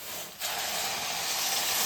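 A steady, loud hiss begins abruptly and continues without pause as liquid is poured into a hot pan of semolina for pineapple kesari, steaming.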